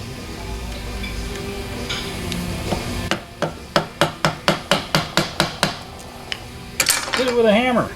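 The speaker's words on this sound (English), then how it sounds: "Hit it with a hammer." A series of about ten evenly spaced metallic hammer strikes on a corroded pin in a Toyota FJ Land Cruiser, ringing out, preceded by scraping and handling noise, ending with clattering and a squeak.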